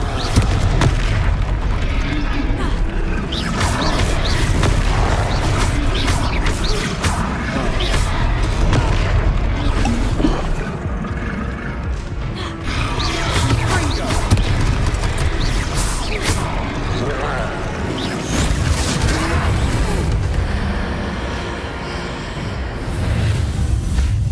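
Confringo spell blasts striking a troll in a video game, a dense, continuous barrage of booming explosive hits and rumbling impacts, loud and close, with game sounds layered throughout.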